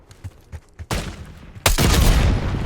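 Call of Duty Black Ops 6 combat opens with faint thuds, then two sudden loud eruptions of sustained gunfire, the second heavier volley continuing to the end.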